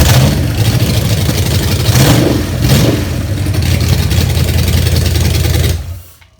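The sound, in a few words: Gen III Hemi engine starting and running on a run stand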